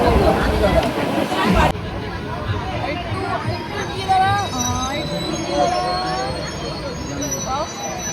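Bongaon local commuter train running from Sealdah, a steady rumble of the carriage on the rails with dense passenger chatter and crowd babble throughout, loud and close.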